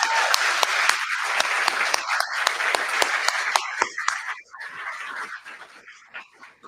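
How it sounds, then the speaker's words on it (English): At a charter school graduation, the audience breaks into loud, crowded clapping, with sharp individual claps standing out, then it thins into scattered claps and a few cheers. "Clap that up."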